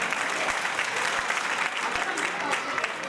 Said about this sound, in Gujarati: આપ જોરદાર તાળીઓ વધાવજો